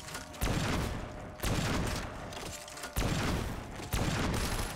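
A sweeper gun firing in a video game, with heavy close blasts spaced about one to one and a half seconds apart, each a sharp loud crack trailing into rumbling noise, five in all.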